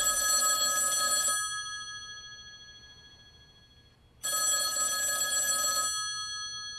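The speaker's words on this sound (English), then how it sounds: "that phone over there is gonna ring." An electronic telephone bell rings in two bursts with a pause between, loud and close, each burst a steady bright trill lasting over a second.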